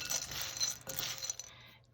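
Dry cereal pieces, round and square, stirred together in a bowl, giving a continuous light rattling and clinking close by for about a second and a half before stopping.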